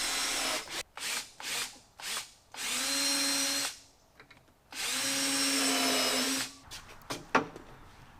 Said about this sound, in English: I used a small drill bit to pre-drill the studs